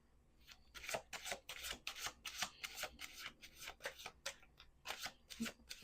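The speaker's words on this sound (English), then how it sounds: "We're going to do 2 more shuffles." Repeated crisp riffle-and-snap of tarot cards being shuffled, a steady run of short papery bursts close by with no talking.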